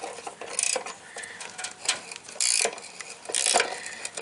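Wrench ratchets in short bursts of rapid clicking, loosening a rear bumper bolt on a 2011 second-generation Toyota Tacoma, close up with brief pauses between strokes.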